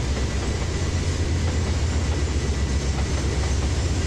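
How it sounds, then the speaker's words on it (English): An Amtrak passenger train rolling on rails near Denver, heard from inside as a loud, steady low rumble with faint rapid clatter of wheels over track joints, continuous and close with no talking. "the sound of the train is making her sleepy"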